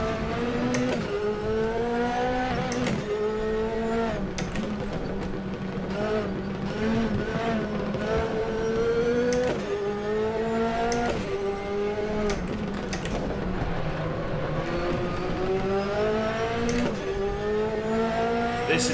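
Race car engine from RaceRoom at Monza in a P4/5 Competizione car, a continuous loud droning whine rising and falling with gear changes, braking late into a corner, with no talk.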